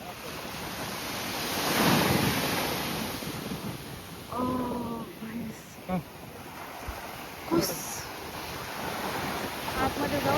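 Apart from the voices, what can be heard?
sea waves where Indian Ocean meets Arabian Sea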